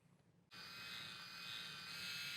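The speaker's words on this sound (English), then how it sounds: "you caught me shaving" A Skull Shaver electric head shaver switches on after a brief quiet moment, then a steady high-pitched motor buzz runs close and continuous to the end.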